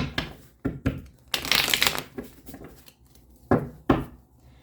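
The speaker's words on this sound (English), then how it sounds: "One more shuffle." Tarot cards are shuffled in quick riffles and bursts, with soft taps and a longer flurry of rustling in the middle, close and fairly quiet.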